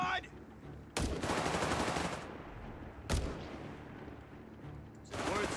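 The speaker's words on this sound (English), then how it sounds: "we got Panzers firing at them" Panzer tanks fire in the strategy game Company of Heroes 3, set in a desert battle with German forces against US forces. Two sharp, loud cannon blasts ring out a couple of seconds apart, each followed by a rumbling tail, and a third shot begins at the end.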